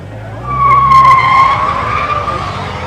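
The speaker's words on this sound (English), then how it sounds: "Not interested in filming cars accelerating" Cars accelerating and skidding at a large car meet, a loud tire squeal rising over revving engine noise, close by and sustained for a couple of seconds, then fading slightly.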